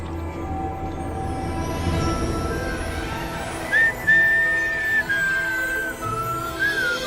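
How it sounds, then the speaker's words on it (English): A person whistles a tune, thin clear notes rising and holding over a steady background hum, moderately loud and alone with no talking. "What is this whistling?"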